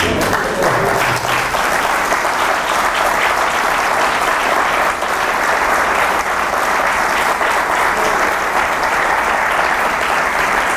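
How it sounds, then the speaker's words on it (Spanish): A church convention congregation applauds in praise, a dense, steady wave of clapping that fills the room and holds at full strength from start to finish with no talk over it. "Es un buen momento para aplaudir al Señor"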